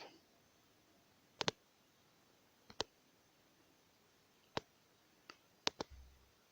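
Faint mouse clicks on a computer, sparse single and double clicks scattered over a quiet background, no speech.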